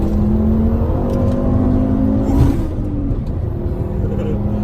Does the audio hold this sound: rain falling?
no